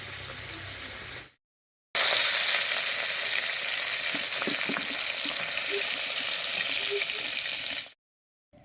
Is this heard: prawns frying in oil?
yes